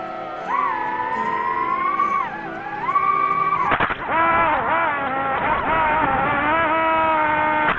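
Kids riding a motorbike nearby, the engine loudly revving up and dropping back in repeated surges, with a sharp clatter midway and occasional whoops.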